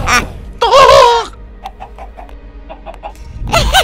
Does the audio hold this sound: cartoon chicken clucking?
yes